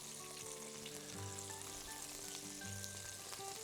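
Cauliflower pieces fry in a Salad Master fryer with a steady bubbling sizzle of hot oil, constant and fairly close, with no speech.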